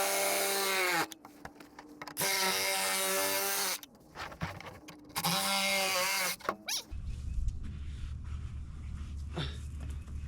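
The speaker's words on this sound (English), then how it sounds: "Now I'm just gonna cut it with a sawzall." A Sawzall reciprocating saw cutting through material outdoors in the woods, loud buzzing bursts of a few seconds each separated by short pauses, ending in quieter handling noise.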